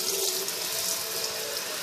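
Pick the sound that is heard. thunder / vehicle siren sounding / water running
water running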